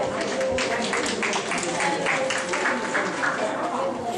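A round of applause greets a registered dietitian at a women's wine and wellness event, with moderate, steady clapping from a small crowd along with some background chatter.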